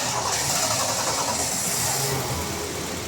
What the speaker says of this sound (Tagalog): pwede ko nang pa-start itong makina.